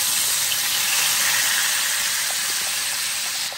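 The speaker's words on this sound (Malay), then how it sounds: "kita masukkan bahan-bahan yang kita kisar tadi" Blended spice paste hits hot oil in a pan for Javanese-style soy sauce chicken, giving a loud, steady broadband sizzle and hiss that holds evenly throughout with no voices.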